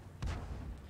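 A single low, booming tank gun shot in World of Tanks, one heavy thump with a short rumbling tail, fairly close and alone.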